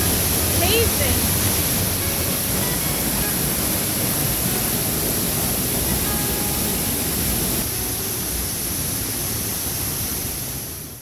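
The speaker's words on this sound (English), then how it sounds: "Came up the creek a little ways to this 70-foot waterfall." Seventy-foot waterfall pouring into a small cave-like hollow beside a creek, a loud continuous broadband roar that stays steady and close for the whole stretch.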